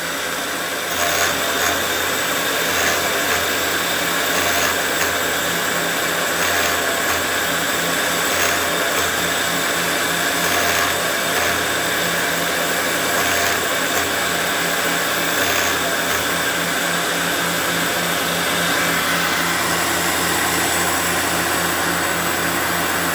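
A grinding machine runs steadily at close range while refacing engine valve lifters for a Fordson E27N tractor valve job, giving a loud, continuous whirring drone with a faint rhythmic pulsing throughout and no talk.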